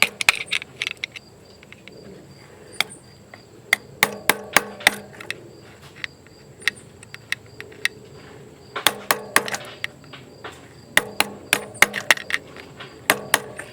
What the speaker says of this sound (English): I'll take my hammer, my screwdriver lined up, give it a little tap